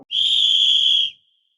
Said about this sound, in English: The minute of silence will begin and end on the referee's whistle.